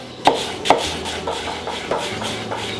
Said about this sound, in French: Maintenant, oignon coupe. On cisèle comme ça.